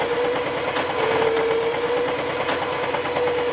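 A Cooper Pro Deluxe Mk II sewing machine running a plain straight stitch at a steady pace, with a continuous motor whine and rapid, even needle clatter, close and alone.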